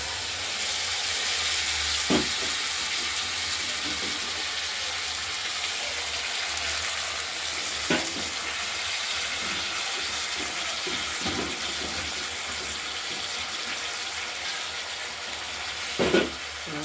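Spice paste for a katla fish curry with potato and tomato fries in a pan, giving a soft, steady sizzle with a few brief stirring clatters, moderately quiet and close, with no voices.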